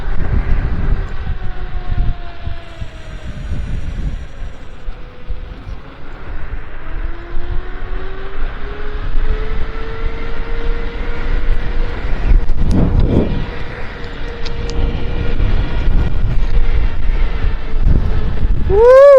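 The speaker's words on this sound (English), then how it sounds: "Woo! It's windy." Steady wind rushes and buffets the microphone throughout on a hilly trail, with a low electric scooter hum underneath and occasional gusts.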